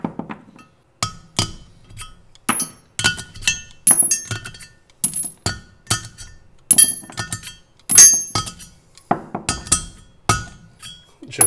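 Loose engine hardware from a supercharged LSA V8 rebuild is tossed onto a pile, one metal piece at a time, giving a close, irregular run of sharp clinks and clanks with short pauses between.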